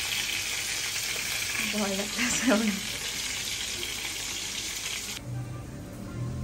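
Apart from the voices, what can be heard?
fish frying intensely in hot oil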